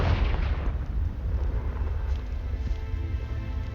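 A Confringo fire spell blast in the Hogwarts Legacy video game lands as a deep, rumbling boom that rolls on for several seconds, dense and low, with no talking.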